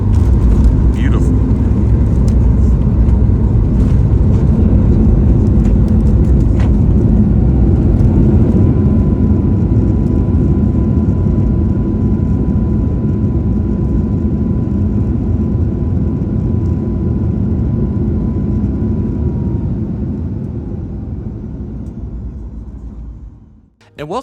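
An Alaska Airlines jet touching down on runway 16L at Seattle-Tacoma International Airport, heard from inside the cabin as a loud, steady roar and rumble of rollout that slowly fades before a brief clatter at the end.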